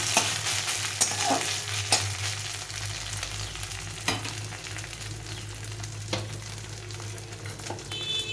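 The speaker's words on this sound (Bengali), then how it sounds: "মশলাটা আমি এইভাবে ভেজে নেব" Ground spice paste frying in a pan for a banana-flower (mocha) ghonto, with a continuous sizzle, low hum underneath, and a few sharp scrapes and clicks of a spatula stirring, no speech.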